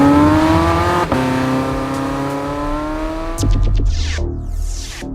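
A 2015 Porsche 918 Spyder hybrid with its engine in hot lap mode, revving loud and close with a rising tone that climbs steadily, then a sharp shift and a lower, rougher burst near the end.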